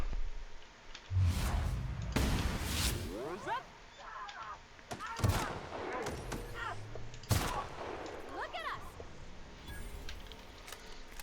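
A damaged gun fires in The Outer Worlds: Spacer's Choice Edition: several sharp, loud shots spaced a second or more apart, with game sounds and a faint voice-like murmur between them.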